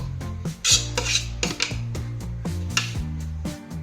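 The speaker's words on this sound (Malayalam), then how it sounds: "ഇത് ഞാൻ വേറൊരു പാത്രത്തിലേക്ക് വെച്ചിട്ട് ആക്കണം കേട്ടോ ഈ പാത്രത്തിലേക്ക് ഇട്ട് കൊടുക്കുകയാണ്" A metal spoon scrapes and clanks against a pot as kabsa is moved into another pot, producing a series of close, irregular metallic knocks and scrapes with no speech.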